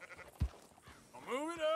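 A sheep in the video game Red Dead Redemption 2 lets out a loud, wavering bleat near the end, after a brief thump and some faint game sounds.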